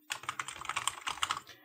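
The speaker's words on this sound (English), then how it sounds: "The keyboard on these things is this nasty spongy affair." Fingers typing on the spongy old keyboard of a Toshiba T1000 laptop: a rapid, uneven run of soft, muffled key clicks, close by and with no one speaking.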